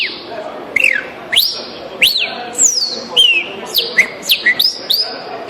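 A man whistles an imitation of the soldier blackbird's song, a run of bright rising and falling whistled notes repeated about ten times at close range, with no other sound over it.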